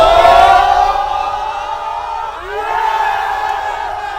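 A large crowd roars and cheers continuously after a cup final win in New York, with loud sustained shouting and whooping that dips briefly midway then swells again.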